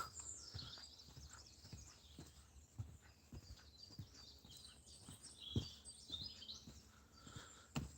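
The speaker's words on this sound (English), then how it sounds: "I say the birds are out in force today." Birds sing and chirp outdoors during a morning walk, faint and distant high trills scattered throughout, with steady footsteps clopping close by.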